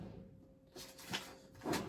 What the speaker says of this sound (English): I've got my Alex drawers here, which has got all the pots in